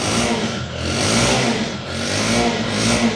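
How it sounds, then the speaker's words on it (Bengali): A 2024 Bajaj Pulsar motorcycle engine revving up and down close by, rising and falling twice in a steady mid-pitched roar with a throbbing exhaust beat, with no talking. "পালসারের একটা আপডেট বাইক আছে এখানে আমি আপনার একটা মাল দেখাই চব্বিশের গাড়ি চব্বিশের সাউন্ডটা শোনেন"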